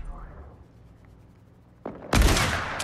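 A hunting rifle fired in a sniper video game: after a quiet stretch, two loud, close shots ring out in quick succession, the second one heavier and trailing off with a brief echo.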